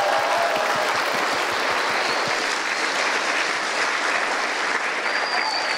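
A stand-up comedy audience claps loudly and continuously in a dense, even wash of applause, with a faint voice underneath.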